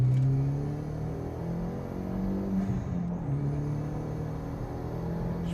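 A 1.8T Audi TT tuned to 260 bhp pulls away under acceleration, its engine droning steadily with a low rumble and rising tone, heard from inside the car with no talking.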